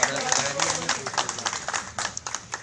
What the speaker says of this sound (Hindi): तालियां बच्चे के लिए एक बार